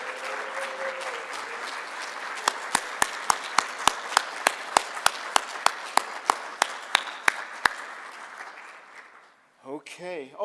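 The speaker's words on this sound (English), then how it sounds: "Please rise and give these guys a round of applause." Audience at a pioneers reception keynote applauds steadily for about nine seconds, with a run of sharp, evenly spaced louder claps near the front standing out over the crowd before it fades into quiet and a voice starts.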